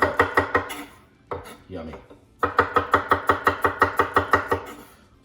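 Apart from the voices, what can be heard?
knife chopping shallot and garlic into thin slices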